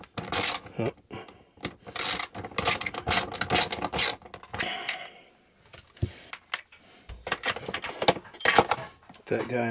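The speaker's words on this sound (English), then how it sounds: "I'll get this started with the ratchet." A hand ratchet tightens a bolt during an RV station build, producing rapid, close clicking in repeated bursts with metallic clatter and handling noise in between.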